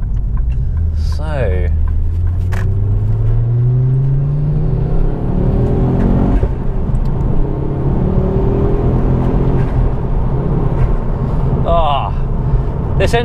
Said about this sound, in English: this engine does feel really strong. It just feels solid, like it feels like you can kind of trust it when you accelerate